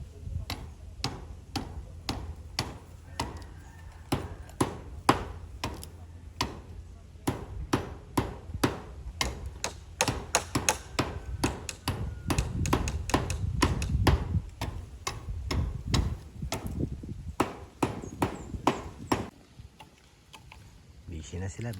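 Sharp wooden chops from a machete (itak) trimming a wooden post at a house construction site, struck repeatedly in a fast, steady rhythm at close range, with people talking intermittently underneath.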